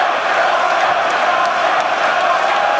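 A large crowd at a League of Legends esports finals roars and cheers in a dense, sustained wash of voices, loud and continuous throughout.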